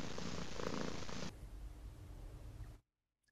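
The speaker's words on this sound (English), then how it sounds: "a cat" A cat purrs with a steady, close, rumbling drone that stays loud for over a second, then continues more softly before cutting off into silence.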